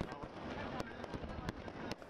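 Fireworks crackle and pop over a Gurudwara lit up for a festive occasion, with a dense, continuous rumble broken by several sharp bursts. The sound sits beneath a faint background murmur.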